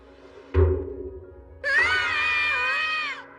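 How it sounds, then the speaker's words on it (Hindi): Two cartoon characters scream after a sudden thump, a loud, long, wavering shriek that holds for over a second and a half before cutting off. "तुम दोनों चिल्ला क्यों रहे हो?"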